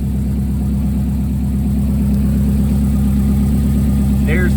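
A 2005 Subaru engine idles through a newly installed downpipe on a free-flowing exhaust, a loud, steady low rumble with even pulsing, close and unbroken, with a brief higher squeak near the end.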